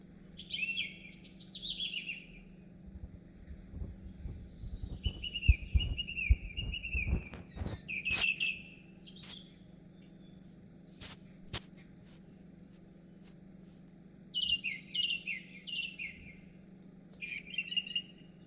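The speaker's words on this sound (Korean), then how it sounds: "또 이 우리를 환영하는 새소리가 들렸는데요" Clear, bright birdsong at Štrbački Buk waterfall in short whistled phrases with pauses between, fairly close, over a low steady hum and a few soft knocks.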